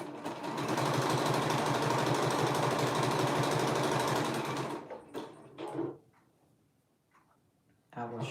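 A sewing machine runs fast and steady, stitching marble fabric for McCall 7999 view B, a close, rhythmic mechanical whirr and rapid ticking for about five seconds before stopping, followed by brief handling clatter and quiet.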